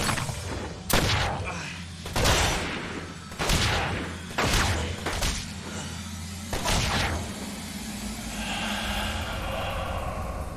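A rapid series of loud gunshots and thuds from the game Murdered: Soul Suspect, about half a dozen bursts in a few seconds, then a lingering rumbling background.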